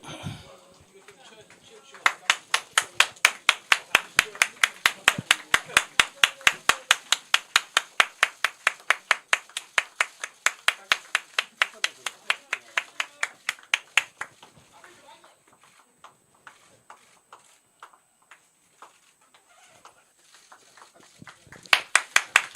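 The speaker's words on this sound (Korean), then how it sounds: "자, 우리 당원 여러분 박수 한번 주세요." Party members at a political press conference clap in loud, rhythmic unison, a long run of regular sharp claps that fades to scattered quieter claps before a final brief burst, with voices heard faintly underneath.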